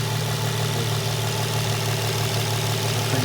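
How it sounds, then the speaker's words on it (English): An Infiniti G35/G37 VQ35HR/VQ37VHR V6 idles steadily nearby, a smooth, even, low hum with a faint ticking texture, unbroken and alone. "I turned on the engine"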